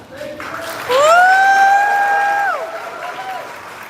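A crowd at a Six Flags Over Georgia announcement applauds beneath a loud, sustained cheering whoop that rises, holds for over a second, then falls away, leaving softer clapping.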